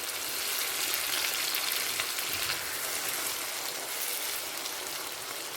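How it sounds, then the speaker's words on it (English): Roughly chopped tomatoes fry in a pan, giving a steady, dense hiss and crackle of sizzling that stays even and fairly quiet throughout. "Fry until tomatoes are well cooked and softened."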